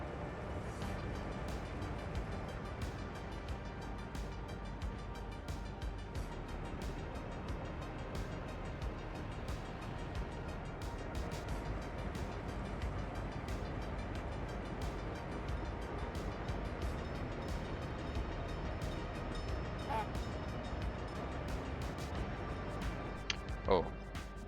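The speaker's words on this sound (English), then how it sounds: "Godspeed, cold power diesel loco." A video-game diesel locomotive running steadily for a long stretch, a continuous rumbling rail drone with faint clicks of wheels over track, moderately loud and even throughout.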